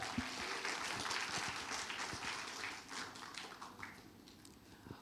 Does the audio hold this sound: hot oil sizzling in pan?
no